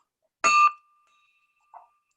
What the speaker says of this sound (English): Ring the bell, President Sue, for John McCulley.